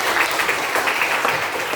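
Schoolchildren in a classroom clap together for their teacher's call, a dense, even burst of many small hands, close and lively for a couple of seconds.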